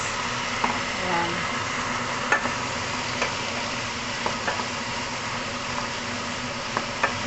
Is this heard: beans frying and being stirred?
yes